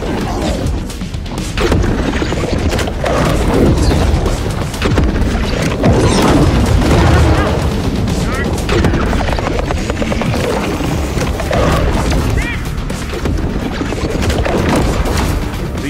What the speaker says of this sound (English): Influencing machine is destroyed.